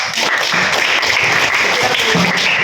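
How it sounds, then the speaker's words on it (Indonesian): Classroom applause for a student group after a biology discussion, a steady patter of many hands clapping at once, fairly loud and even throughout, with voices mixed in. "Berikan tepuk tangan untuk."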